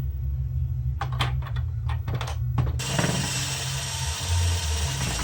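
Screws being driven into a game console, heard as a few short ratcheting, clicking bursts over a steady low hum, followed by a broader brighter mechanical whir in the second half.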